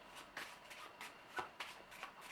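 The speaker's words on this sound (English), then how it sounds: "So I will shuffle these cards" A deck of cards is shuffled for the Forbidden Island board game, with quiet, close riffles and flicks coming in several short bursts.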